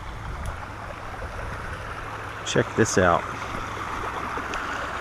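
Prune Creek, a forest stream in Wyoming's Bighorn National Forest, flows with a steady, close broadband rush that fills the whole stretch, with someone briefly speaking over it.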